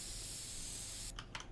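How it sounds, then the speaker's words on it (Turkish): A spray can in a toilet simulator video game gives a steady, close hiss for about a second. It then cuts off, leaving two short sputtering bursts. "Evet sprey yapmamız lazım abi."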